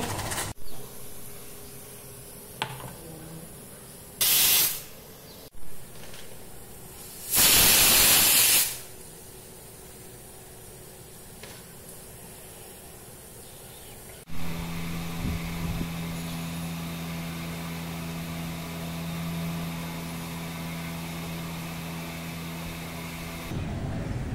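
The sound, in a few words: water for tea boiling in a pot, steam hissing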